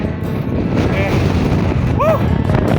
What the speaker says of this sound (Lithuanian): Vėjas, didžiulis